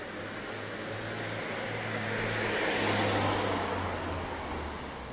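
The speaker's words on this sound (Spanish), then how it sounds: "Tres autos de policía dando vueltitas." Three police cars drive around on a street, making a steady rumble of engines and traffic that swells a little in the middle and then fades back.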